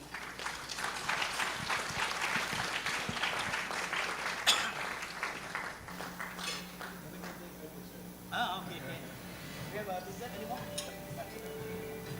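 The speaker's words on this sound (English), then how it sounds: "let's give them a round of applause" A dinner audience at an ASEAN maritime security dialogue gives a panel a round of applause: brisk, crisp clapping for about six seconds that then fades into talking and the clink of tableware.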